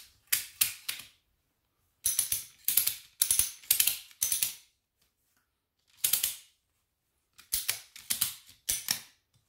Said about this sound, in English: And ratchet it down.